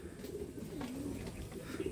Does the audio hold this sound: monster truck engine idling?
no